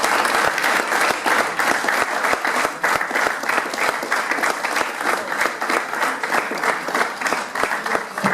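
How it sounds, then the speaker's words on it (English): A packed room at a football club's end-of-season awards night applauds its coffee shop volunteers, a dense, steady wash of many hands clapping close by that keeps going without a break. "So a massive applause for these guys."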